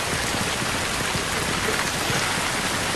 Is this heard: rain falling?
yes